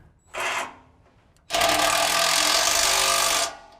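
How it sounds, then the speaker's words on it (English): Bumper bolts are driven with a ratchet and 5/8 socket: a short burst of rapid clicking, a pause, then a longer steady whirring clatter up close. "We're going to go ahead and tighten everything down using a 5/8."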